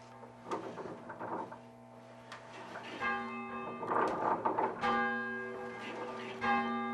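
A church bell at a historic parish meeting house is rung by pulling its rope, sounding several clear resonant strokes with lingering hum between them, while people talk quietly nearby.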